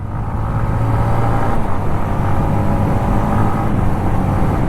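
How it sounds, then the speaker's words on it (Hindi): Yamaha MT-15 motorcycle engine on the move in fourth gear, a steady close droning roar with a slight swell partway through as the throttle is released and blipped again, over road and wind noise. "हम एक्सीलेटर दिए हुए थे, फिर एक्सीलेटर को रिलीज किया और तुरंत झटके से एक्सीलेटर ले लिए"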